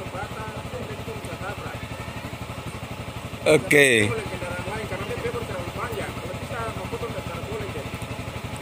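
A motorcycle engine runs steadily at sea near a fishing raft, a constant low chugging throughout while people talk briefly over it and a short louder burst breaks in midway.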